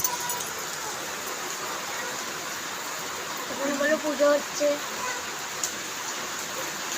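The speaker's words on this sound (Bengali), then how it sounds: "বৃষ্টি শুরু হয়ে গেছে জোরদার।" Heavy rain pours steadily as a broad, even wash of noise, with a voice speaking briefly partway through.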